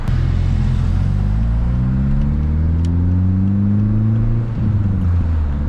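A VW GTI 20th Anniversary Edition with its resonator deleted drones loudly up close, a steady low rumbling exhaust note that rises and falls slightly as the engine revs.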